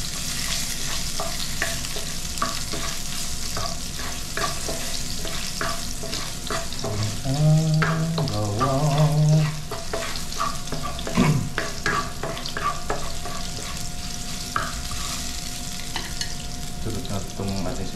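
Garlic frying in a pan with a steady, close sizzle throughout, punctuated by scraping and clinking as it is stirred, with a brief watery burst partway through; no voices.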